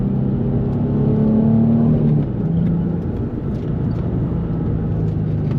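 A 2004 Nissan 350Z engine pulls hard under acceleration while driving, a loud steady drone of rising revs that eases briefly before carrying on, close and continuous with no voices.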